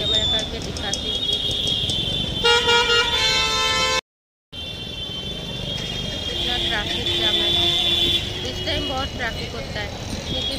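Several car horns honk in dense street traffic outside a railway station, with a stretch of repeated beeping amid a steady roar of engines, mostly auto-rickshaws, while someone talks over the din.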